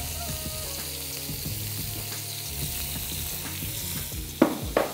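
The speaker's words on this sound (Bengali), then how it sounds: "একটু নাড়াচাড়া করে, সামান্য নাড়াচাড়া করে" Garlic and ginger paste, following onion paste, fries and sizzles in a pan while being stirred, a steady close hiss with scraping strokes and a couple of sharper clacks near the end.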